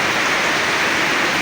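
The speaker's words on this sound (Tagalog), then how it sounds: "isang oras na yung ulan, hindi tayo makapagtrabaho" Steady heavy rain pours down in an unbroken broadband hiss, close and loud, falling for an hour and keeping outdoor work from going ahead.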